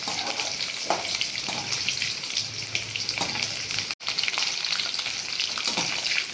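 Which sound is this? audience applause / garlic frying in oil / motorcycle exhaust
garlic frying in oil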